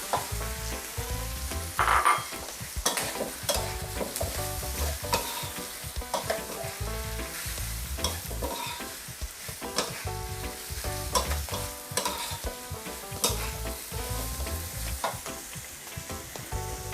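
Mussels stir-fried with chili paste in a pan, a loud continuous sizzle with constant clattering of a spatula scraping and tossing the shells, close and busy throughout.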